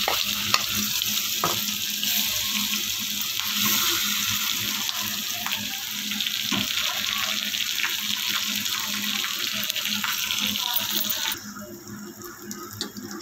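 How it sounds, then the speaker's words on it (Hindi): Crushed garlic and chilli sizzle and crackle steadily in a hot pan, a continuous hiss with occasional pops, easing slightly near the end. "अब हम इसमें लहसुन मिर्चा जो कूटे हुए उसको डालेंगे"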